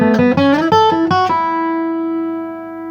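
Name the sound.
guitar pull-off on Fire on the Mountain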